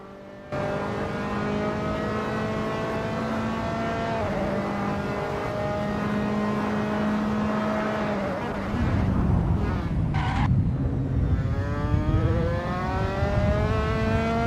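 A Dallara F317 race car at Tor Poznań in Assetto Corsa holds a steady, loud, high-pitched engine whine through a practice out lap, with the pitch shifting as it changes gear partway through.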